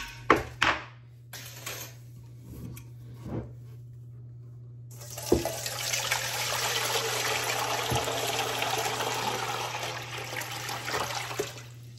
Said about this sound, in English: So let's get the jar of milk and get it dumped in there.